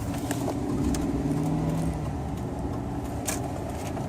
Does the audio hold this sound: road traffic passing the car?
yes